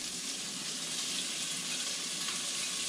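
Guanciale fries in olive oil in a pan, giving a steady hissing sizzle that stays even and moderately quiet throughout, with no talking.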